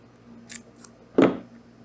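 A piece of blue masking tape being cut or torn in a garage workshop, two short close snips, the second louder and fuller, against a quiet room.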